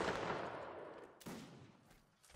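Musket volley fire from the Mount & Blade Napoleonic Wars game comes as quiet, rolling crackles of many shots blending into each other, with a couple of sharper reports standing out.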